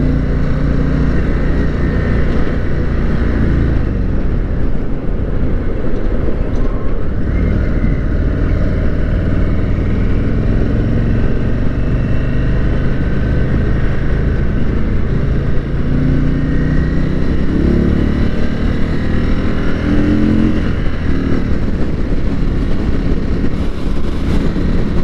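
An Indian motorcycle engine runs continuously during a dealership demo day test ride, with a touchy throttle, giving a loud, close, steady roar with slight swells in revs throughout, with no voices.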